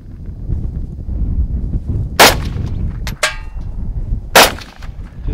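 Two sharp, loud reports from a Ruger Mini 30 rifle fired at a target outdoors, roughly two seconds apart, with a fainter crack between them over a steady low rumble of wind and background noise.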